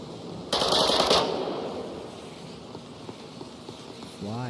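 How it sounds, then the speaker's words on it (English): Rapid automatic gunfire rattles loudly in a tactical shooter game, a dense burst of about a second that fades into a background of footsteps and ambient game noise, ending with a rising electronic tone. "Firing some free fire shots in the smoke."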